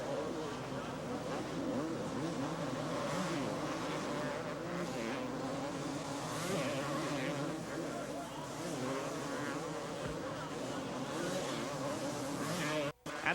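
A field of motocross motorcycles races on a dirt track, their engines making a continuous high-pitched droning whine that rises and falls at a distance, with a commentator's voice audible beneath.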